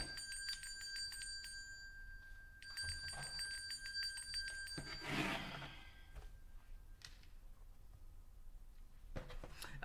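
A small ringing bell sounds in bursts, a bright, sustained metallic tone that rings out, fades, then rings again, with light handling clatter between strokes.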